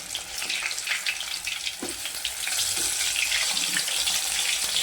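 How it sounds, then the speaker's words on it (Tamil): Lays-coated chicken pieces fry in hot oil, a close steady sizzle and bubbling that grows fuller partway through, with a soft clack or two from stirring. "ஆயில் காஞ்சிருச்சு, இதை ஆயிலில் போட்டுக்கலாம். இதை பரட்டி விட்டுக்கலாம்."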